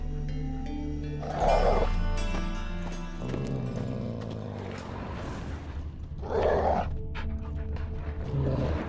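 Dogs growling and snarling in The Witcher 3 on PC, with rough animal growls over dense game ambience, rising in two loud bursts amid scuffling and clopping sounds.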